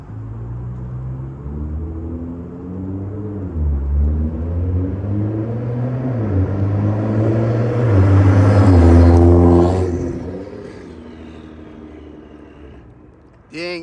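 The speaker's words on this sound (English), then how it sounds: "Dang, you can really hear those turbo whistles in the exhaust pipes." An 800-plus horsepower Nissan GTR with turbos whistling through the exhaust drones and builds revs in stepped climbs, swelling to a loud peak before fading away, with a brief thump at the end.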